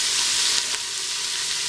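Sliced onions and green chillies sautéing in oil for beef biryani, a dense continuous hiss of frying, loud and close, with barely any stirring and no talk.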